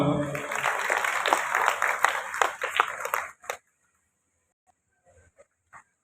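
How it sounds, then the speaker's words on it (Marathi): Applause from the audience welcoming a former deputy municipal commissioner at the annual general meeting of a municipal employees' cooperative credit society. Dense clapping runs for about three seconds, then stops abruptly, leaving near silence with a few faint sounds. "सर्वांनी टाळ्या वाजवा"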